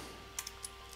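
A few quiet keystrokes on a computer keyboard, three or four soft separate clicks over a faint steady hum.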